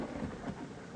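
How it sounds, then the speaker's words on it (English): Rain and rolling thunder in the video game WolfQuest, a dense steady wash of rain with a low rumble throughout. "It's still raining in Wolfland."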